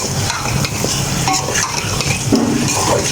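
Chicken frying in a pan with browned onions for a lauki chicken curry: a steady loud sizzle with stirring scrapes and occasional clinks of a utensil against the pan.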